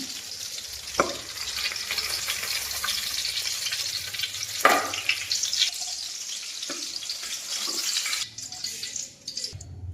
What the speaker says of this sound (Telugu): కొంచెం ఆయిల్ వేసుకుని మిరపకాయలు వేపుదాం